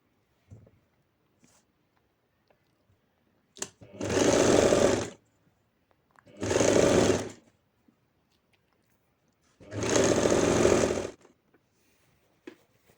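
Sewing machine stitching a border onto a blouse, running in three separate bursts of a second or so each with quiet pauses between, close and clear with no talk.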